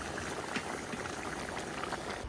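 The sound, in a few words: plov boiling in a cauldron (kazan)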